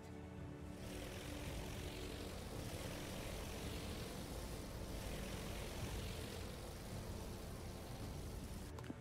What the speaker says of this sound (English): Let's get some fighter planes up.